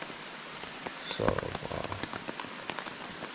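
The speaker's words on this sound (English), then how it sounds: "The rain is actually comforting, but when it first kicks off and it really starts hitting this tarp, it wakes me up." Rain drums steadily on a camping tarp during a solo overnight trip, a continuous patter with a few louder drops; a brief spoken word rises once above the pattering.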